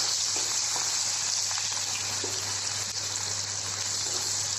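Onions sizzling in hot mustard oil in a wok for an Assamese ash gourd curry, a steady, close, dense frying hiss with a constant low hum beneath and no talking.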